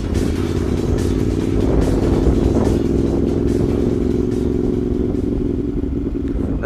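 CFMOTO 450SR 2023 motorcycle under way at speed, its engine droning steadily and loud throughout with rushing wind and slight clatter, no voices over it.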